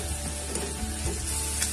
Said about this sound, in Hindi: तो थोड़ी देर के लिए बस हम सूखे मसालों को थोड़ा सा भून लेंगे।